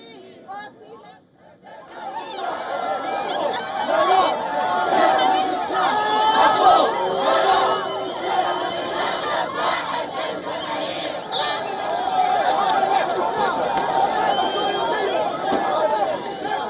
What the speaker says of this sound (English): protesters clashed with the riot police outside the Israeli embassy, chanting for Palestinian freedom